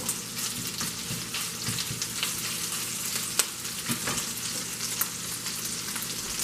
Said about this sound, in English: while my chorizo's frying over there